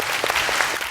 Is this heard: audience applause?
yes